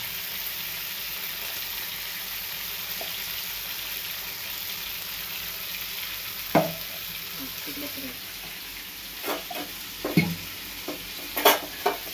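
Eggplant and spices fry in a pan with a steady, even sizzle and hiss, broken near the end by a few sharp clinks and scrapes as they are stirred.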